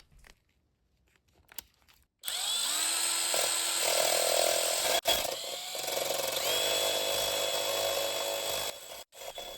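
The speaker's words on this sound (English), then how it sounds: "wheel brush attached to my drill. This way I'll be able to remove all the surface rust" A wire wheel brush spun by a drill scrubs surface rust off a car's bare metal, starting after a quiet lead-in and running as a loud, steady whirring grind with brief dips, cutting out near the end.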